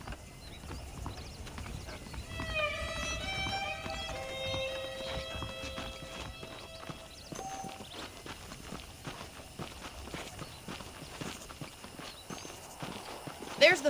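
Horse hooves clip-clop at a walking rhythm in the video game Red Dead Redemption, with a whinny early on, under a voice speaking over the steps.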